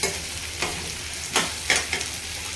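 Potatoes fry in hot oil with a steady sizzle, and a spoon stirs them in a few scraping bursts. The sound is close and there is no speech.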